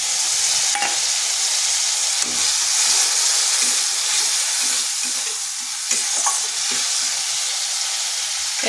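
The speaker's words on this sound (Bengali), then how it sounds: "দিয়ে দিচ্ছি একটা টমেটোর পেস্ট।" Tomato paste frying in a pan while being stirred, a loud continuous close sizzle and hiss broken by a few scraping stirs, no voices.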